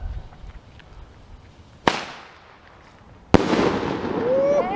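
Fireworks outdoors at a July 4th backyard show, including M80 firecrackers and bottle rockets: two sharp loud bangs a second and a half apart, the second followed by crackling and a whistling rocket trail.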